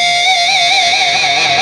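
Distorted electric guitar from a song holds a single sustained note with steady, wide vibrato, loud and close, alone for under two seconds.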